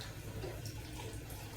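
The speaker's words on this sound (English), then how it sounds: "whoops, splashing water everywhere, getting all this soap off of here" Running water splashing as soap is rinsed off a plastic face shield and its elastic strap at a sink, a short, faint, steady watery rush.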